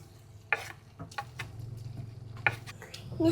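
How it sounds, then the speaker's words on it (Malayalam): Chopped onion is tipped into a pan of frying garlic and stirred, with a soft sizzle under sharp scrapes and clinks of a spoon against the pan. "അപ്പോൾ ഇനിയിപ്പോൾ നമുക്ക് അതിലോട്ട് കുറച്ച് സവോള ഇട്ട് കൊടുക്കാം"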